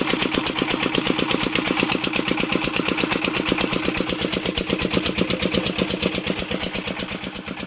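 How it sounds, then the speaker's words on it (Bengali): A trawler boat's engine chugs steadily on a river crossing, a fast, even, loud mechanical pulse heard up close and unbroken, easing slightly toward the end. "ঠাকুরবাড়ির উদ্দেশ্যে আমাদের ট্রলার রওনা করে দিয়েছে।"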